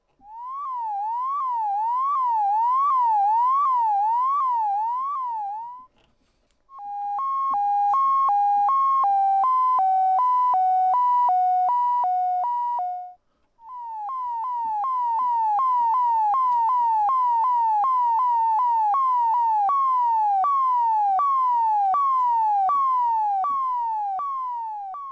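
Electronic synth tones from a 921B oscillator, pitch-modulated through its DC FM input by a passive mix, warble rapidly up and down, siren-like, in three loud sections separated by brief gaps, the last with pulsing, stepped sweeps.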